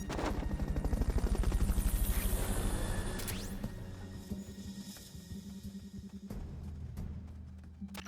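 Steady rapid thudding of helicopter rotor blades in a video game, with sharp bursts of gunfire mixed in, loud and continuous, no talking.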